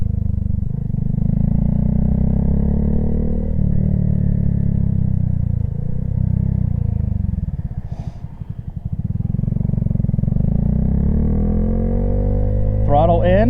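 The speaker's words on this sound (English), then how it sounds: "You can just engine brake, right? It's just letting it go. Watch, just third gear, pretty quick, and then I haven't touched the brake at all." A motorcycle engine-brakes in third gear, a loud steady droning rumble that dips and swells partway through, with brief higher whines near the end.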